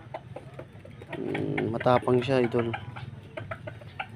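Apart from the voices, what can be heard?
chickens clucking, a hen fighting another hen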